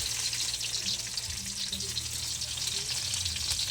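Onions frying in a pan for native adobo make a continuous, close crackling sizzle that holds an even level throughout, with no talking.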